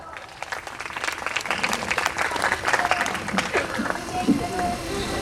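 Applause from a school audience at an annual social gathering, a dense steady clapping crowd that swells and holds for several seconds with some voices mixed in.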